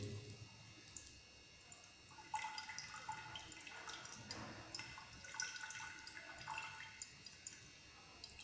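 Water dripping and trickling into a beaker during a school physics demonstration on pressure, a faint, steady patter with a few brighter splashes, heard at low level.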